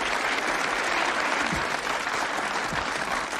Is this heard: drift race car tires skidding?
no